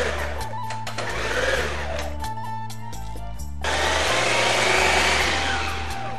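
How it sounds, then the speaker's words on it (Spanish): A food processor whirs in loud, uneven bursts as it chops a medium onion, its motor pulsing and then running steadily near and alone, with no voices over it. "ir cortando una cebolla mediana en el procesador"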